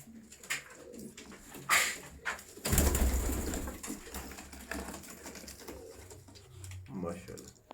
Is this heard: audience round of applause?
no